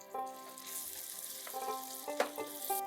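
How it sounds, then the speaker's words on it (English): Chicken sizzles and crackles steadily in mustard oil in a pan, a quiet continuous frying sound with occasional sharper pops. "So we are almost done with the frying."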